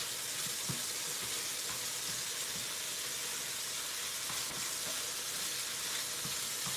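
Food frying in a home kitchen, cooked down to medium well, giving a steady, continuous sizzle with faint crackles throughout, close and moderately loud.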